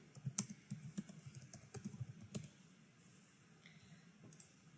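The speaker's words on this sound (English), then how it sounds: "So I'm going to go ahead and type in" Fingers tap a computer keyboard in an irregular burst of close, crisp key clicks, quick runs with brief pauses, fairly quiet in a still room with no talk.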